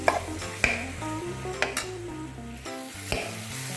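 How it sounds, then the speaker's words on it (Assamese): Olive pickle frying on low heat in a pan gives a steady, close sizzle with occasional stirring clinks and scrapes. No one speaks. "10 মিনিট সময় কম জুইতে ভাজিব লাগিব"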